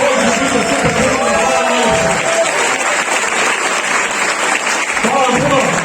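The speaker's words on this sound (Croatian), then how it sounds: "Nastavite pljeskati" An audience at a stand-up comedy show in a Zagreb pub gives sustained, loud applause that fills the room, while someone talks over the clapping at the start and again near the end.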